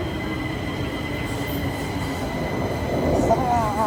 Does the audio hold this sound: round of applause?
no